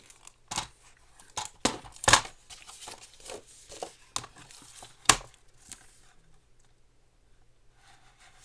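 Paper cut with scissors while making a journal insert, a string of crisp snips and rustles clustered in the first half, then thinning out, close and fairly quiet.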